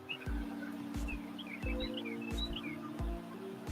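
Birds chirp and tweet in short scattered calls, faint and somewhat distant, over a low repeating mechanical hum.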